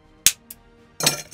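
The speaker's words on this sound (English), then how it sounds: "we're going to build this one inside of a mixing glass with a couple of large ice cubes" Large ice cubes clink sharply into a glass mixing glass for a cocktail: one bright knock, a softer second tap, then a longer rattling settle, close and alone with no talk.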